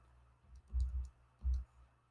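Calculator keys pressed while entering functions, two firm, close taps about three quarters of a second apart, each with a light click, in an otherwise quiet room.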